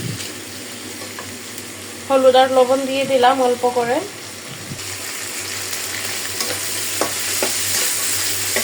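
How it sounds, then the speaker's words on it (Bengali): Pigeon meat frying in a pan with a little turmeric and salt gives a steady, close sizzle throughout, while someone speaks briefly over it partway through. "এখন আমি কবুতর বসায় দিলাম। মাংসটা একটু ভাজা হোক"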